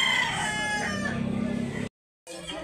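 At a chicken market in Consolacion, Cebu, a rooster gives a loud, drawn-out crow nearby. The call cuts off abruptly into a brief silence, then low background noise resumes.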